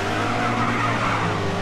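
Race car in GRID 2 pushed hard with its rear sliding out, a steady loud engine drone with tire scrub and skid noise running throughout the short burst.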